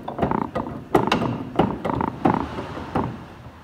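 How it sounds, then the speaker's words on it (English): A trolley jack raises a Ford Focus, giving a series of close metallic clunks and ratcheting strokes at a roughly regular pace, with no talking. "if I can figure the trolley jack out, I should be able to jack this up"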